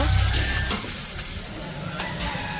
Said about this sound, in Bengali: তো এই যে পেঁয়াজ কাঁচামরিচ ভাজা হয়ে গেছে